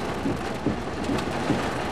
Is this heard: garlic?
no